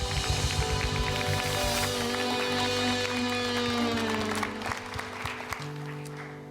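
A church congregation claps along steadily in worship, the rhythmic applause partly masked by loud sustained organ or keyboard chords throughout.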